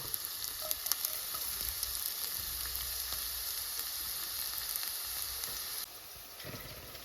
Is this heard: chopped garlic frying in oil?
yes